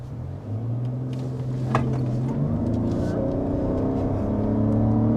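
A Lexus TX 550h+ plug-in hybrid with V6 power accelerating from inside the cabin, a low engine hum rising steadily in pitch over several seconds, with a faint voice early on.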